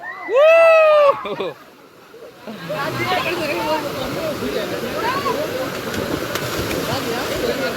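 Manche waterfall in Konkan pours as a constant rushing wash of water, preceded by a brief loud exclaiming voice and a short lull before the roar fills in.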